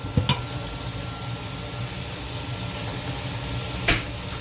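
A pan of pork sauce reduces with a steady soft sizzle and hiss, broken by a couple of brief clinks near the start and end.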